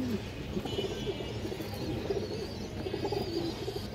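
Racer pigeons coo softly in low, repeated murmuring phrases, several birds close together, with a faint background hum and no speech.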